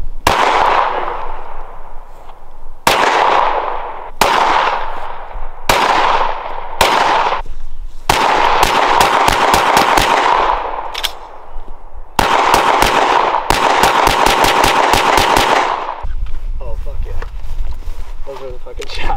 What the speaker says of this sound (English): Squeeze very slow. Dot on target. Break your shot.